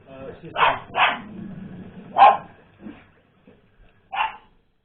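A dog barks several times, sharp, close barks spaced out over a few seconds with a quieter whimpering sound between them, in an otherwise quiet room.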